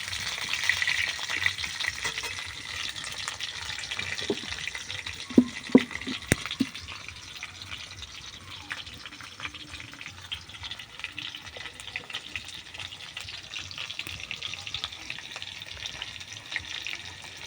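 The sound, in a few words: stirring frying khichuri with Eid meat and lentils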